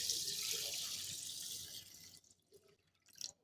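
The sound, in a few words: water added to soak fenugreek seeds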